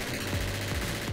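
K15 light machine gun firing in a continuous fire test, a rapid, even stream of closely spaced shots that stays loud from start to finish.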